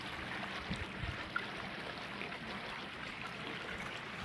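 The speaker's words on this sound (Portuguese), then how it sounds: "Para ver se dá para mostrar melhor a descida da água aqui" Water rushing down a canal section of Ceará's water belt channel toward the Castanhão reservoir on an overcast day, a steady, fairly faint broadband flow with an occasional small splash.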